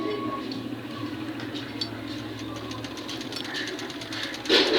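A sewing machine with a presser foot and pressure bar fault runs steadily as it stitches cloth, a low continuous hum with a fast mechanical patter, close by and under a speaking voice.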